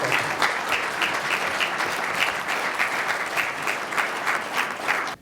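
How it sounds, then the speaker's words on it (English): A room full of people at a charity event for breast cancer screening gives sustained, even applause that holds at a steady level and then stops abruptly. "He deserves a round of applause."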